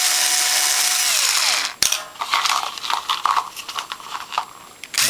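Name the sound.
special tool retapping screw holes in a Norwalk juicer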